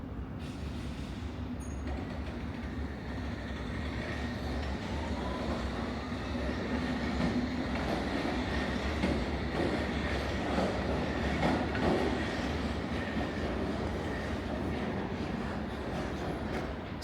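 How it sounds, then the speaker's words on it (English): The first eastbound Circle Line train on the London Underground rumbles through the station with a steady droning roar and rattling wheels, swelling slightly louder midway and holding for a long stretch with no talk. "I guess that's the very first train on the Circle Line going eastbound."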